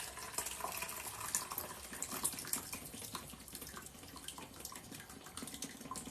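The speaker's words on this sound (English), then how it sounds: "Drain it over the sink." Hot water pours steadily from vegetables into a strainer over a kitchen sink, a continuous soft splashing rush lasting several seconds with no talk.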